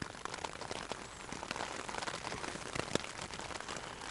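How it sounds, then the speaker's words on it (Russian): Dense, steady patter of cold rain drumming on a tent pitched overnight on an old road, with countless fine close drops and occasional louder taps, heard alone without speech. "Дождь, походу, не прекратится."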